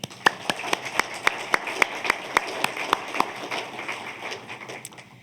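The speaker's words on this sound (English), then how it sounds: "How about another round of applause?" Sparse, sharp handclaps ring out in a steady rhythm over a low crowd murmur at a university alumni awards ceremony, thinning out toward the end.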